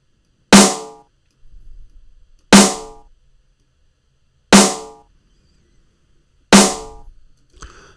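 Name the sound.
metallic snare layered with simpler snappy snare, balanced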